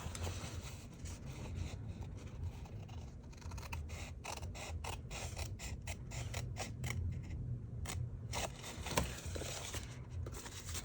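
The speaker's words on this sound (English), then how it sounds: "on this side, we're going to trim in along our fold line" Scissors trimming paper along a fold line make a quiet series of crisp snips and creaks in an uneven rhythm over a soft steady background hum.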